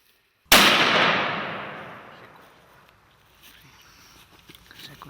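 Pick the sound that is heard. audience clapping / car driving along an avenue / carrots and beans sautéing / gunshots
gunshots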